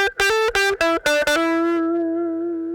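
Electric guitar played through an Electro-Harmonix Cock Fight wah and fuzz pedal, giving a loud, harmonically rich distorted tone: five quick choppy stabbed notes, then one note that sustains and fades gradually, with no talking.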